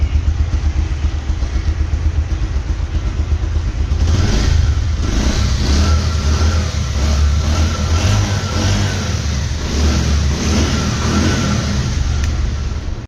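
A Bajaj Pulsar 150 motorcycle engine runs close by, steady and throaty, then revs harder at around four seconds and holds a raised roar before easing slightly.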